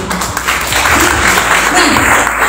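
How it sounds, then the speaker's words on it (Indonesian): Indoor audience at a seminar applauding, a dense, steady wash of clapping from many hands throughout, mixed with voices and room noise. "Oh, itu boleh tepuk tangan ya"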